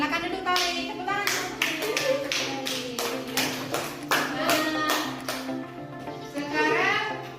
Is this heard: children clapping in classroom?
yes